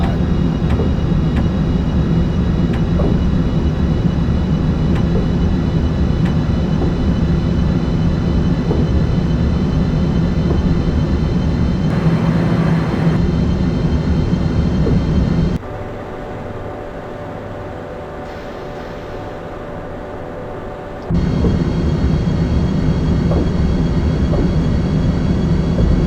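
An Acela Express train runs at high speed in the OpenRails simulator, giving a loud, steady roar of rushing wind and rolling noise. Partway through it drops briefly to a quieter hum, then the roar resumes.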